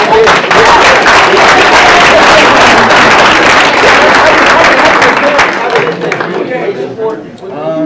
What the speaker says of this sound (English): Let's give this young man a hand, man.